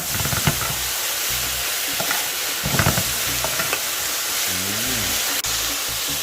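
Fish going into a pot of Jamaican brown stew, with a steady loud sizzle and hiss under occasional stirring and clinks, close up.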